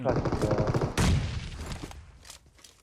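Gunfire in the battle royale video game PUBG Mobile: a rapid burst of automatic shots, loud and near, followed by a heavy crack and fading echoes, with scattered fainter pops afterward.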